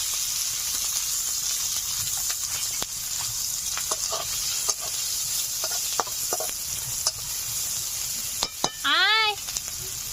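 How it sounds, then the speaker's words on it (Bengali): A dried red chilli, whole cumin seeds and chopped onion sizzle in hot oil with a continuous hiss, punctuated by scattered spoon taps and a brief scrape near the end. "তেল গরম হয়ে গেছে, দিয়ে দিচ্ছি একটা শুকনো লঙ্কা, গোটা সাদা জিরে, দিয়ে দিচ্ছি পেঁয়াজ কুচি,"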